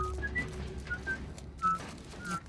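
Short whistled notes inside The Last of Us, the video game, come in a few brief bursts over a low background rumble, moderately loud and alone without talk.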